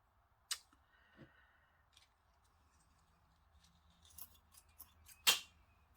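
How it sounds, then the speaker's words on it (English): Tassel threads trimmed to length with scissors: a few quiet, crisp snips spaced irregularly, with a sharper, louder cut near the end and soft handling rustles between them. "So I'll just trim this quickly."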